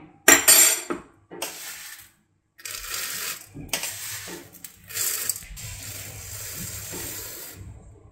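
Dry urad dal tipped into a pan and stirred as it fries on low flame for Guntur-style idli podi, with a loud rattling pour at the start followed by repeated scraping, clattering stirs.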